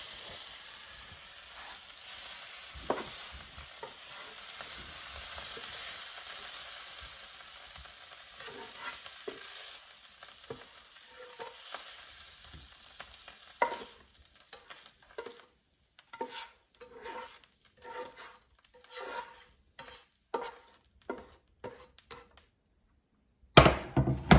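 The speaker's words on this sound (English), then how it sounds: "I will take them out of the frying pan and put them on a plate" Steady frying sizzle of stir-fry vegetables fades out, followed by a series of distinct scraping and clinking strokes of a utensil moving them out of the frying pan onto a plate, ending with a sharp clatter.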